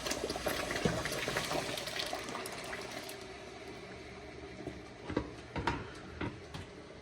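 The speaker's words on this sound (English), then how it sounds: "at this time, we are going to add a blended pepper" Blended pepper for jollof rice pours into a pot with a thick wet splatter and bubbling, steady at first, then a few sharper plops near the end, close and without talk.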